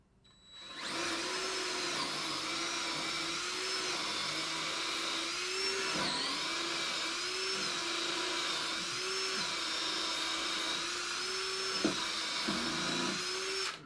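Power drill with a 5/16 bit boring holes for carriage bolts in a firewood saw buck, a steady high whine running nearly fourteen seconds with slight pitch dips and a short stutter near the end.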